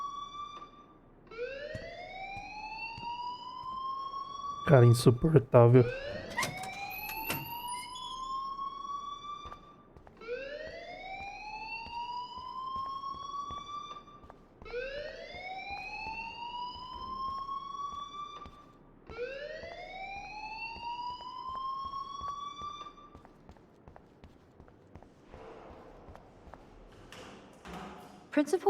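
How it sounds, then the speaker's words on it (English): A school fire alarm in Life is Strange Remastered sounds in repeated rising electronic whoops, about five cycles spaced several seconds apart, with a brief burst of clatter and a short spoken line partway through. "please turn off that alarm since that's your job"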